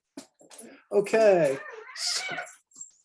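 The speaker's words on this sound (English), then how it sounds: "Excuse the cat and the dog." A dog whimpers and yelps in short bursts while scuffling with a cat indoors, heard close, with a brief spoken word from a person.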